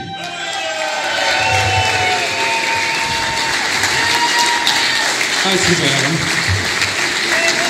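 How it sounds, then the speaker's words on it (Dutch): Loud applause and cheering from a carnival crowd at the proclamation of a new Prince Carnival, swelling and sustained, with a voice speaking over the noise and tonal sounds above it. "Ik geef vandaag een applaus."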